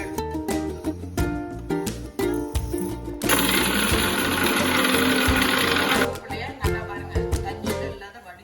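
A kitchen mixer grinder whirs in short pulses and then one sustained grind of roasted curry leaves for thokku, close and loud, with clattering start-stop bursts around the longer run.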